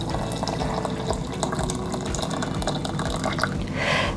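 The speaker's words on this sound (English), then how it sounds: "I'm going to infuse this with 450 mils of water." Water pouring steadily over fruit tea bags in a container, about 450 ml, a continuous splashing and trickling stream, close and clear without any talking.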